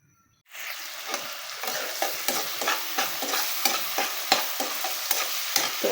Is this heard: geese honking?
no